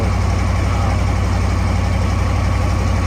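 A 1975 Ford 8000 truck's engine idles at close range, giving a loud, steady, low throbbing rumble with an even pulse and no talking.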